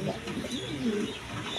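A pair of uncommon down-face pigeons coo close by in low, rolling, repeated notes, alone and at moderate volume.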